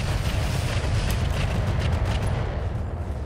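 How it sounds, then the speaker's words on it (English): A bolt-on rocket launcher pack fires in a vehicle-building video game, giving a dense, continuous roar of launches and blasts that stays loud and steady throughout, with no talk over it. "Bolt-on rocket launcher pack,"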